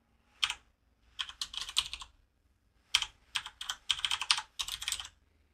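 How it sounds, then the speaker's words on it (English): Typing on a computer keyboard in quick, clicky bursts separated by short pauses, close and fairly quiet in an otherwise silent room. "So we can obviously type anything we want in here."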